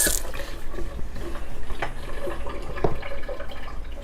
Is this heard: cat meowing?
no